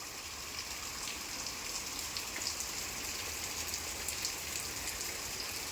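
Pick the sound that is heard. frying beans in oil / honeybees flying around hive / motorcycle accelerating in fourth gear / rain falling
rain falling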